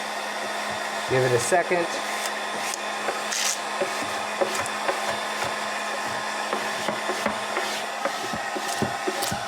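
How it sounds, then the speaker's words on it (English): Steady, loud whoosh of a heat gun blowing on 3M Di-Noc architectural vinyl film wrapped over an office desk, running continuously close by, with a brief spoken remark and a few light taps and clicks. "you can take the heat gun, get it about a foot away, and it still makes the vinyl relax a little bit"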